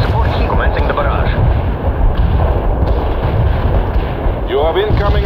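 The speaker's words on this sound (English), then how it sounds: "Heavy fire support here. Commencing the barrage." An artillery barrage in the video game World in Conflict: Soviet Assault, a loud, dense rumble of continuous heavy blasts with radio-style voices cutting in and out.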